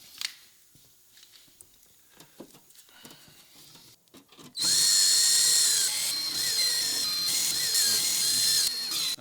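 After a few quiet seconds of faint handling and clicks, a power drill whines loudly and steadily for several seconds as it drives screws into a plexiglass plate on a Cummins-swapped Silverado, then stops.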